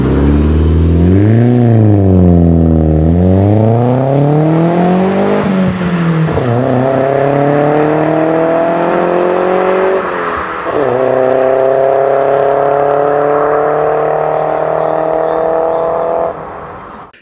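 An Audi A4 with the 1.8T turbocharged engine accelerates hard, its note swooping up and down through revs and then climbing steadily through several gear changes, loud and close with no talking.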